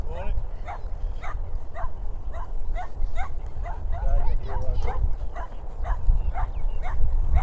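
A dog holding a ball gives a run of short yips and whimpering barks in a regular rhythm, close by, with outdoor rustle underneath.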